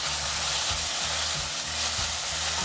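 Ginger garlic paste sizzles and roasts with mutton in a hot pan, a steady, dense hiss that runs unbroken throughout, with a faint rhythmic low hum beneath.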